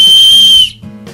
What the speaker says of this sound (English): The 100 decibel fail-safe rescue whistle gives a shrill sound that can be heard over 1 mile